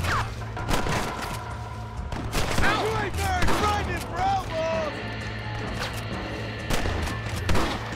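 Pistol gunfire in Red Dead Redemption: scattered loud shots and booms over a constant background hum, with a voice speaking throughout.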